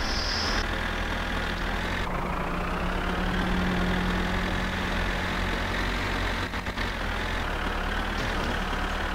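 Continuous engine rumble of a tractor in My Summer Car, a steady loud drone that rises slightly in pitch as it accelerates, with a brief clatter near the end and no talk over it.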